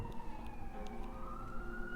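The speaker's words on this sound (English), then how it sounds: "The sirens are going off." Faint wailing sirens slide up and down in pitch over a low rumble of traffic, steady throughout.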